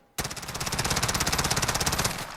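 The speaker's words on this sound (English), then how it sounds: "So now let's let it rip one more time and we'll take a look at it." A Colt 9mm SMG in Call of Duty Modern Warfare fires one sustained burst of about two seconds, a rapid, even stream of loud close-up shots with no pauses.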